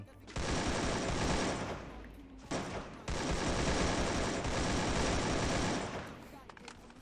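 Automatic gunfire in a shooter video game roars in long, loud, continuous bursts, breaking off briefly midway and then resuming before it tapers away near the end.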